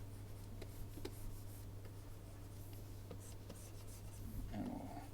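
A pen sketching across a drawing surface, a steady low scratchy rubbing with small taps and strokes, faint and close, continuing alone without talk over a constant background hum.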